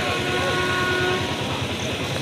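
A train passes close by with a loud, steady rumble and rhythmic clickety-clack of wheels over rail joints, plus a faint horn-like tone, filling the whole moment.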